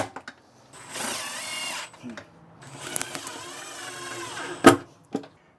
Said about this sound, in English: It takes 4 screws to simply retain it to the floor.